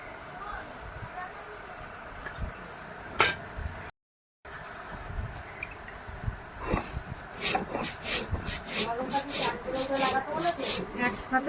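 Coriander and cumin being ground by hand, with scattered rubbing scrapes early on that build into fast, regular back-and-forth grinding strokes up close, and some talk in the first part.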